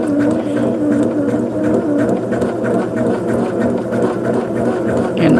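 A sewing machine fitted with an open toe foot stitches in a steady, continuous mechanical whir with a fine rhythmic patter, fairly close and even throughout.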